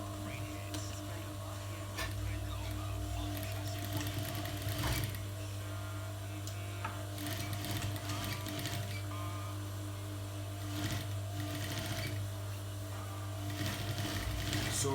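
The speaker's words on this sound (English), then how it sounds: "So I'm going to sew here, and we'll see how it will come out." A sewing machine runs steadily while stitching the shortened hem of a pair of trousers, a constant close mechanical whir with light rattling and no pauses.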